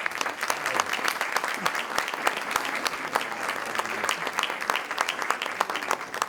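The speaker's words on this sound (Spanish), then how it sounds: "Un aplauso especial para él" An auditorium audience applauds continuously, a dense patter of many hands that holds steady throughout.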